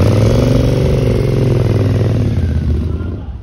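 A motorcycle engine revs hard and close by, a steady loud roar that holds for a few seconds and then fades as the throttle drops.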